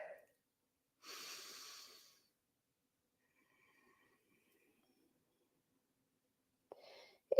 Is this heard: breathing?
yes